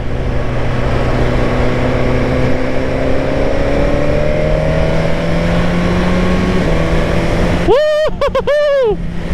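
A 1000cc motorcycle on the move, a steady engine drone with shifting pitch under wind rush, then a sharp rising rev near the end.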